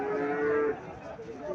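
A Sahiwal calf lows once at a busy cow market in Mirshanni, Comilla, a single close, loud moo lasting under a second, followed by faint background murmur.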